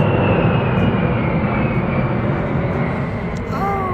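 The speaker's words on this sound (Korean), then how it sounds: "비행기 소리가 워낙 커서" A fixed-wing airplane passes overhead a rooftop plant nursery, producing a loud, steady, broad engine roar that fills the whole stretch without pause.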